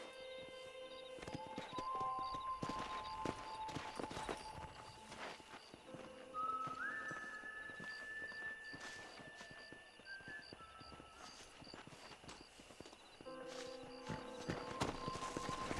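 Horse hooves clip-clop steadily in the Red Dead Redemption game, a run of soft rhythmic hoofbeats under faint tonal game music and whistling.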